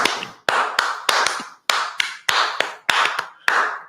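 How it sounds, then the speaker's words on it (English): Sharp hand claps close by, about a dozen in an uneven rhythm with short pauses between groups. "Are you clapping?"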